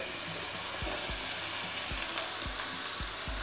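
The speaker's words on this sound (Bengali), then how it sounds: "এরপর আলুটা একটু ভাজা ভাজা হয়ে এলে এখানে আমি একটা মাঝারি সাইজের পেঁয়াজ কুচিয়ে রেখেছি" Chopped onion and potato frying together in a pan for a potato omelette give a steady close sizzle, with soft stirring knocks every half second or so and no voices.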